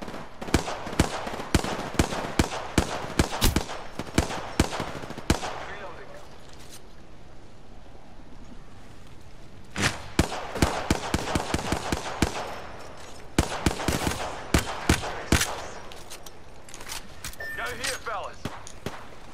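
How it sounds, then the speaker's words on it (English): Rapid bursts of automatic gunfire in an Apex Legends firefight, sharp repeated shots in tight clusters with short gaps between volleys, close and loud, while a player talks over the action. "Listen up, I'm getting shot at."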